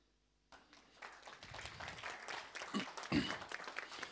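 Silence breaks into audience applause at an investment forum on real estate. The clapping starts abruptly, then builds and thickens into sustained clapping from a room of people, with a couple of louder close claps near the end and some background voices.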